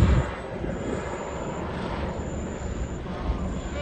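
An air ambulance helicopter drones overhead, a steady low engine rumble filling the air without pause, moderately loud and not too far away.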